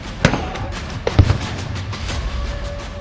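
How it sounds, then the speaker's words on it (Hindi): Tear gas shells explode at Shambhu border during a farmers' protest: two sharp booms a second apart over a busy outdoor rumble, followed by quieter, fainter thuds. "पूरे इलाके में धमाकों की आवाज आ रही है।"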